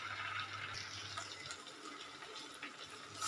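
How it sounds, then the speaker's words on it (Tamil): Water poured into a cooking pot while making masala kichdi, about six cups going in as a steady splashing, gurgling stream that runs throughout at moderate level. "இப்போ நம்ம இதில் ஒரு ஆறு கப்பு தண்ணி விட்டுக்கலாம்"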